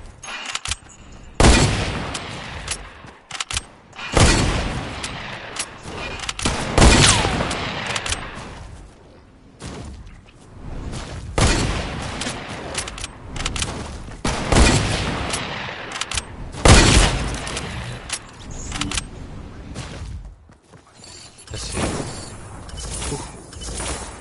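Gunfire in the video game Fortnite: repeated loud bursts of shots and booming impacts scattered throughout, with short gaps between volleys and no speech over them.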